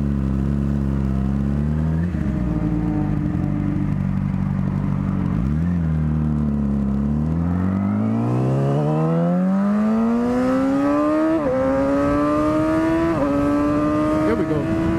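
A car pulls up close with its engine revving, pitch sweeping down then climbing steadily as it accelerates, loud and continuous, with a few quick throttle blips near the end and faint voices underneath.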